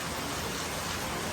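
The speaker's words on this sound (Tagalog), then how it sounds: "Ligo si Madam sa ulan." Rain falling on a farm: a steady, dense hiss of rainfall, continuous and even throughout with no voices.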